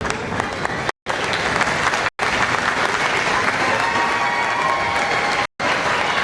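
A crowd at the 2023 Marshalltown Community College commencement claps continuously, a dense, fairly distant round of applause with a few brief cuts to silence.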